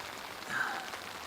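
Heavy rain hisses down at an elk hunting camp as a dense, steady wash of noise that lasts only a moment, with no talking.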